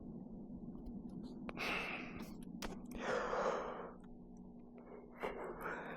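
Close breathing picked up by a microphone mounted right by the nose during an electric unicycle ride, with several soft gasping inhales and exhales over a steady low engine-like hum.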